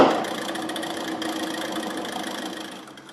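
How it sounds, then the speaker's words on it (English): A lost-wax casting centrifuge is released and whirls molten metal into a mold, making a steady mechanical whirring hum that begins loud and slowly winds down over a few seconds, with no voices. "now we are going to release the centrifuge and spin the metal into place"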